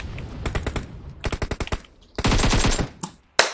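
Automatic gunfire in a battle royale video game crackles in several rapid bursts, loud and close, ending with one sharp shot.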